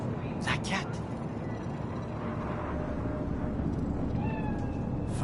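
A cat meows in the video game Cyberpunk 2077, on a Night City street, a few faint mews over a steady low ambient hum.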